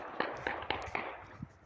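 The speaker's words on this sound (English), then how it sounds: "Gunshots." Sharp gunshot-like bangs ring out in a city neighborhood, about five distinct reports spaced irregularly across a couple of seconds, moderately distant with some echo.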